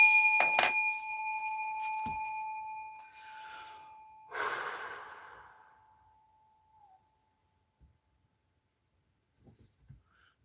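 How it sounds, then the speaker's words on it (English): Bell struck once to clear energy: a sharp metallic strike with a long ringing tone fading over several seconds, followed by a breathy whoosh and then near silence with faint small noises. "We're gonna hit the bell."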